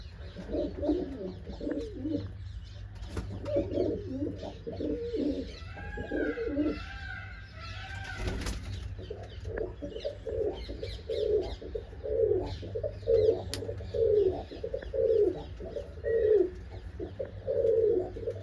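Pigeons coo repeatedly in a steady, rolling rhythm, several birds close by, with faint chirps and background noise mixed in.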